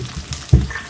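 A vegetable stir fry hits a hot pan with one sudden loud burst of sizzling that softens into a steady frying hiss, heard up close with no talking.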